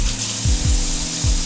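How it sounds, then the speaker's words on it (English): Hot water runs from a tap during hand washing, a steady close splashing stream with a few short low thumps or knocks mixed in, fairly loud and with no talking. "Hot water. You see that steam rising off of there."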